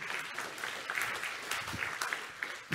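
Steady applause from a conference audience at a React developer talk, dense clapping filling the room at a fairly even level throughout, with no one speaking over it.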